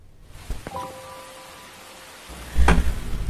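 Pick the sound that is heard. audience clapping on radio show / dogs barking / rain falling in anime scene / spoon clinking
rain falling in anime scene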